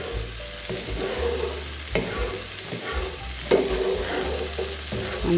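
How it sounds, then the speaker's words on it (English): Arborio rice toasting in butter in a pan for a fennel, mushroom and leek risotto, with a steady close sizzle broken by scraping stirring strokes throughout. "I may put another tablespoon of butter in, just to make that, start that toasting off, that roasting off of the rice"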